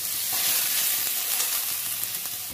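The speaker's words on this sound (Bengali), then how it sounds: "আলু ভেজে নিচ্ছি, আলু আর একটা পেঁয়াজ।" Potato and onion pieces fry in hot oil with a steady, close crackling sizzle and occasional stirring, no voices.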